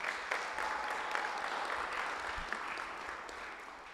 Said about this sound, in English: Again, let's have a round of applause for them.